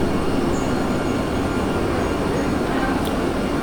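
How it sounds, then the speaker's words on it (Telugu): Vande Bharat Express train on the Renigunta–Vijayawada route pulling into a station: a steady, loud rumble of rolling wheels and carriages fills the whole stretch, with a faint brief squeal near the end. "మనకు ట్రైన్ అయితే వచ్చేస్తాను"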